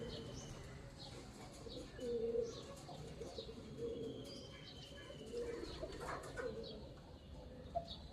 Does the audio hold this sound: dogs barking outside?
no